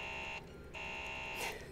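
A blaring electronic alarm in the sci-fi horror game Alien Isolation, a steady harsh buzzing tone that cuts out briefly, then resumes and holds, moderately loud with no talking.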